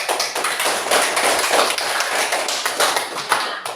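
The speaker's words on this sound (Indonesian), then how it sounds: "Ibu Guru beri aplaus ya, tepuk tangan" A primary school class claps hands for classmates in a lesson, a lively spatter of many quick, uneven claps that keeps going for a few seconds without talk.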